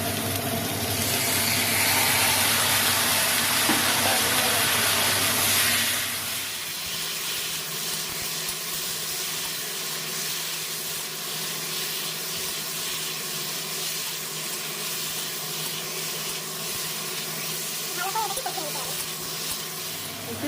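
Spice paste hitting a hot pan of browned potato, onion and tomato for an egg-and-potato curry, a loud hissing sizzle for the first few seconds that settles into a quieter, steady frying crackle.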